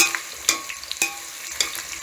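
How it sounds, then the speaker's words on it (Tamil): Onions and green chillies sauté in a pan for Chettinad mutton biryani, with a spoon scraping through them in about five quick strokes over a continuous close sizzle. "இப்போ வெங்காயம் வதங்கிடுச்சு."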